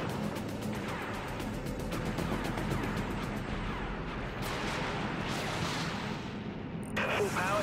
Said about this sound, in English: Activating primary weapons,